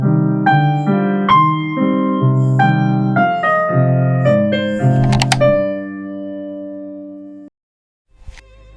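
Sarasate's Zigeunerweisen melody in a dotted, fiery gypsy-style rhythm, played as a clear solo line with sustained harmonic tones, ending in a brief pause and a faint knock.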